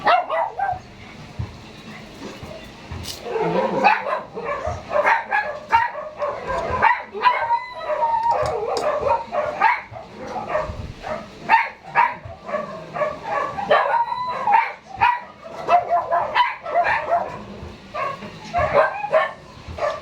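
Several dogs bark and yip repeatedly at a moderate distance, an uneven, excited chorus with occasional whimpers amid background noise.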